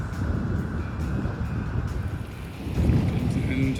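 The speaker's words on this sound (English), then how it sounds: "just picking up a nice gust here" A wind gust roars over a Graduate sailing dinghy out racing, a rough blustery rush with water sloshing that swells louder toward the end, with a voice speaking over it.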